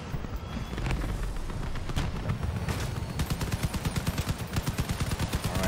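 Rapid machine-gun fire in a video game rattles in fast, regular bursts, dense and loud, with sharper explosive cracks scattered through the opening seconds.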